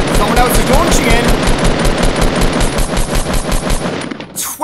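Sustained rapid gunfire in Fortnite Battle Royale, a loud, steady stream of repeated shots for several seconds that cuts off near the end.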